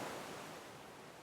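Soft, steady ocean surf washes continuously at a distance, a faint broadband hiss of waves that gently fades slightly, with no voices present.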